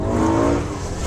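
A fast car on a wet track brakes hard from speed, producing a loud, continuous roar with a tonal tire squeal for about a second.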